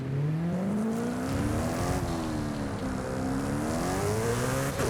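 A McLaren P1's hybrid V8 revs hard in Forza Horizon 5, its pitch climbing and dropping in repeated sweeps near the limiter, loud and continuous with no talking.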